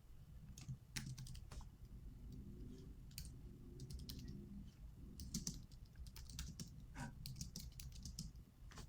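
Continuous typing on a computer keyboard, a quiet steady stream of fast key clicks in irregular bursts with no talking, over faint room hiss.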